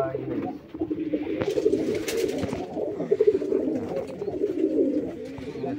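Many pigeons coo in a low, throaty, overlapping chorus inside a loft at a pigeon farm, close and continuous, with someone speaking over them.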